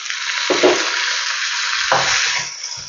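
Chopped onion, green chili and tomato sauté in hot oil in a pan, giving a steady loud sizzle throughout. Two clattering stirs break in, followed by small scraping knocks near the end.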